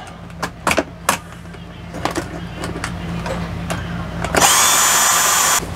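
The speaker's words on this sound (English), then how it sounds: "Tighten that clamp up." A power tool tightens a clamp while wiring an RV air conditioner, preceded by a few sharp knocks and clicks, then a loud close whirring burst lasting about a second and a half.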